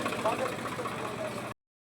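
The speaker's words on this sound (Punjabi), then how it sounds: "ਜਗਰਾਮਾ ਚੱਲਿਆ ਟਰੈਕਟਰ" A tractor nicknamed Dinosaur runs on a trip to Jagraon, its engine giving a steady, close rumbling idle with a faint knock that cuts off abruptly after about a second and a half.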